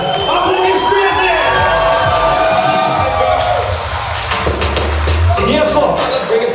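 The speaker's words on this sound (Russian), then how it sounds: "Аплодисменты!" Crowd at a school graduation prom in Bishkek breaks into loud cheering and whoops, a dense, continuous wall of voices filling the whole stretch with shouts rising and falling close by.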